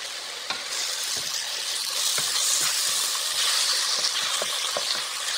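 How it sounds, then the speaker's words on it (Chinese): Sliced tomatoes stir-fry over medium heat, a loud, steady hiss of sizzling close up, with occasional spatula knocks and scrapes under it. "再放进去切好的西红柿片，用中火翻炒，一直把西红柿炒到糊状"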